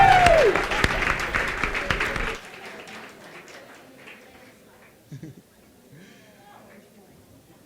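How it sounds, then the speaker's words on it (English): An audience at a live debate gives a loud round of applause that lasts about two seconds, then drops off sharply into faint scattered claps and room murmur. "And one more round of applause for both Sal and Felicia."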